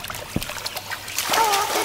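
A short splash as a rooster is thrown into a deep well in a Russian folk-tale cartoon, a soft watery splatter and trickle lasting about two seconds.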